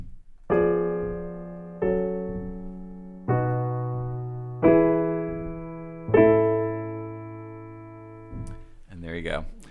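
A chord progression in a music theory lesson, ending on a five-to-one cadence through a fully diminished seventh chord: five sustained harmonic chords struck one after another, each ringing and fading, with a brief noise at the end.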